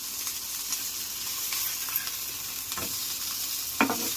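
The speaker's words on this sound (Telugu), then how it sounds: "మీడియం ఫ్లేమ్లో బాగా దోరగా వేగుతాయండి తవిలి బిళ్ళలు" Kandi nooka rounds (tavala billalu), made from split pigeon pea grits, sizzle steadily in oil on a hot pan over a medium flame, with occasional louder crackles and spatula scrapes; close and continuous, no talking.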